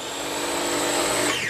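A mini food chopper whirs steadily as it chops a cup of cilantro and a cup of parsley, a loud, continuous high motor buzz that cuts off near the end.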